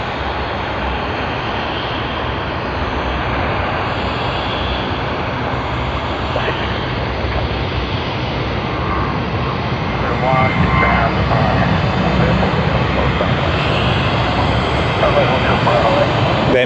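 An Embraer E190 jet from Wagga Wagga moves at Sydney Airport, its engines a steady roar that grows louder partway through, with indistinct voices nearby.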